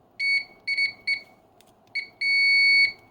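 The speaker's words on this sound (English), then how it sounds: "very loud beeper, and it's really, really fast" Continuity beeper on a 1985 Tektronix 2445 oscilloscope with DMM, giving loud, shrill electronic beeps: several short bursts in quick succession, then one longer sustained tone, close up with no talking.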